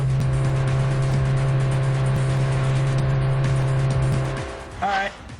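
A mobile racing game's car engine on a Whiplash track holds a loud, steady droning hum for about four seconds, then cuts off and leaves a brief rising tone and fading noise at the end.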